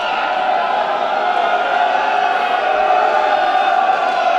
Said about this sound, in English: they're a very excitable crowd, aren't they, this evening